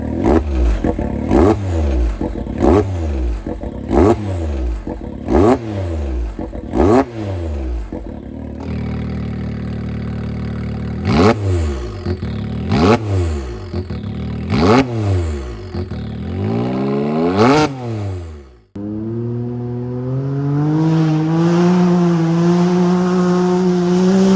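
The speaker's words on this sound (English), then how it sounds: "That's just a little bit of what the exhaust sounds like." Can-Am X3 Turbo side-by-side fitted with an aftermarket exhaust, revved repeatedly in sharp bursts that climb and drop, then settling into a steady higher idle-to-rev drone; loud and close, no talking.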